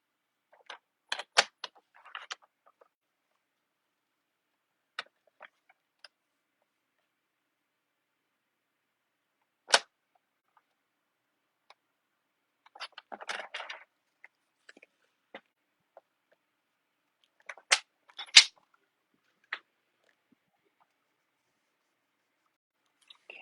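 Scissors or a paper trimmer cutting a cardstock layer down to size for a Paper Pumpkin card, heard as short, crisp snipping and rustling bursts in separate clusters against a quiet background, close up and without talk.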